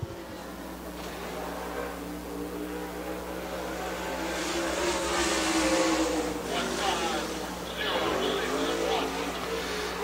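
A super late model race car runs a qualifying lap at Dixie Speedway, its engine droning steadily and swelling louder mid-lap before easing and rising again at a distance.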